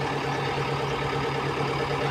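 A truck engine just brought back to life after a week of repairs and replaced internal parts idles steadily, a low even hum with a faint rhythmic throb, close by and alone.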